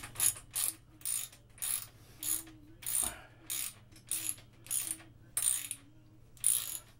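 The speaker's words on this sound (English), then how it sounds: "Now I'm gonna tighten up the bolt." A ratchet tightens a bolt on a Quik Lok three-tier keyboard stand, giving about ten evenly spaced bursts of crisp clicking close by, with quiet pauses between strokes.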